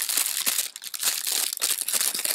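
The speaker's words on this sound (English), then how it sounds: "In a plastic bag." Plastic bag packaging of a makeup brush set crinkling up close, a continuous run of crisp, dense rustles and crackles with no talk.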